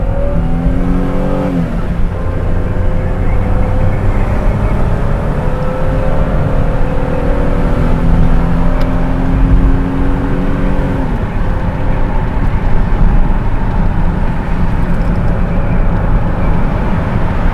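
A car drives an empty mountain road toward Les Deux Alpes, its engine droning loud and close throughout, climbing in pitch through the gears early on and again near the middle.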